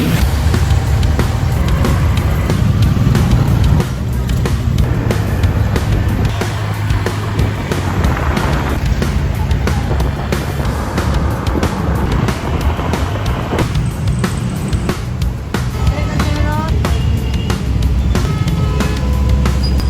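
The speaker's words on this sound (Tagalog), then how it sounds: "tan-awa ninyo ang atong biyahe karon kung unsa ka traffic ang paingon sa Taguluan" Car driving through road traffic toward Tagoloan, with loud continuous road and engine rumble, heavy wind buffeting and passing vehicle noise throughout, no talking.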